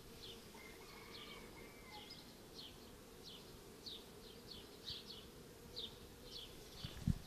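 Honey bees buzz around a hive frame during queen rearing with grafted larvae, a soft continuous drone with individual bees whizzing past in brief passes, faint and close, with an occasional bump at the end.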